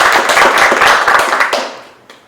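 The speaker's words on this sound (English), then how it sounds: "Let's give them a round of applause" A workshop audience breaks into a burst of hand clapping, loud and close at first, then thinning and fading out near the end.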